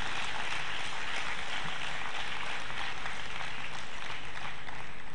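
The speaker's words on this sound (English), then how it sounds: "A round of applause for your own group." Graduates clapping together at a medical college graduation ceremony, a steady dense wash of applause from a large crowd that holds evenly throughout.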